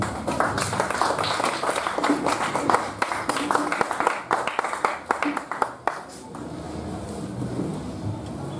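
A church congregation applauds the word of God with a loud burst of rhythmic clapping that fades into the murmur of the room.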